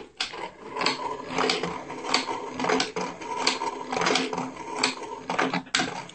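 A Spiderman-themed useless machine whirs and clicks as its arm pushes the switch off, a series of close mechanical clatters and motor buzzes in uneven bursts, with no talk.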